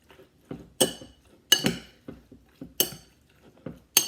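A spoon stirs a soy sauce and neutral oil marinade in a dish, giving sharp, irregular clinks against the bowl, close and clear with quiet pauses between strikes.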